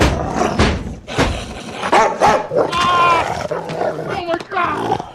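A dog barks and growls in a few rough bursts from a television scene, mixed with speech and other sounds, moderately loud and close.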